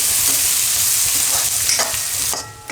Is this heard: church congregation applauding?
no